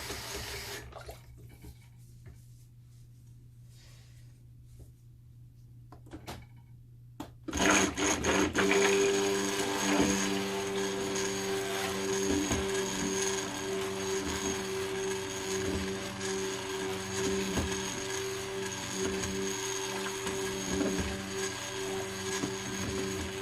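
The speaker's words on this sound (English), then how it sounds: "Rinse this quick." Running water pours steadily from a tap in a soap-making workspace, starting abruptly after a quiet stretch and continuing as a close, continuous rush.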